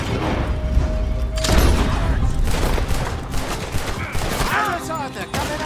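Sustained fusillade of gunfire during a shootout in Red Dead Redemption 2, with overlapping shots, booms and mechanical clatter throughout, loud and close, mixed with other game sounds.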